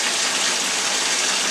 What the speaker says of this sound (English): now that's gonna be ozonating the water as it comes out of the faucet